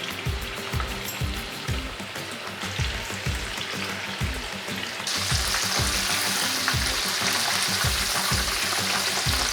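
Food deep frying in a crowded batch of hot oil, a dense, steady crackling sizzle with fast bubbling that grows louder and brighter partway through, close up and with no voices.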